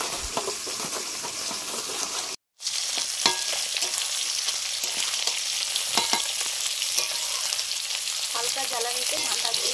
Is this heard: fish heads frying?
yes